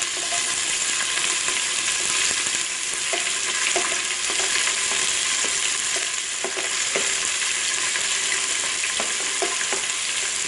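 Onion, green chilli and ginger garlic paste sauté in oil for a restaurant-style vegetable biryani, a dense continuous sizzle with scattered spoon scrapes against the pan, close and steady with no talk.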